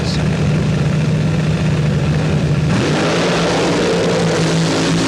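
Top fuel dragsters launch at an NHRA World Finals race, a loud continuous engine roar that changes character and pitch about halfway through, without any talk over it.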